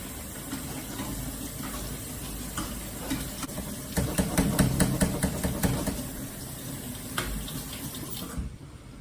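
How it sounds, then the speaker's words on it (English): Running cold tap water splashes and rattles over beans in a strainer, growing busier in the middle with clattering stirring before cutting off near the end. "So you're gonna empty that in a strainer, turn on your cold water,"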